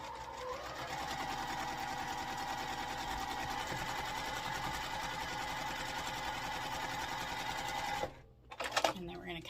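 A sewing machine hums steadily as it stitches fabric, a continuous close mechanical whir that stops abruptly near the end, followed by a brief clunk.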